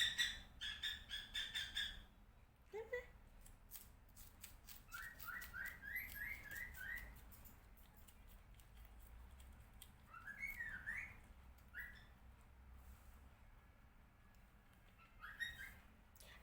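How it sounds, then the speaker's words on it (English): A cockatiel kept as a pet indoors gives short chirps and whistled calls in scattered bursts, moderately close, over faint background noise and a few clicks, with no speech. "Cockatiel bird is just like a parrot also, they're the same family."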